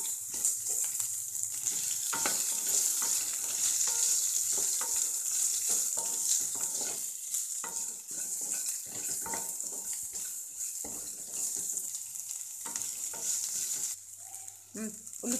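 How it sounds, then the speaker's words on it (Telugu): Green chillies fry in a hot tempering for a beans fry curry, a steady close sizzle with repeated spoon clicks and scrapes of stirring, no talking. "మన పోపు వేగింది, మన పచ్చిమిరపకాయ వేస్తాం,"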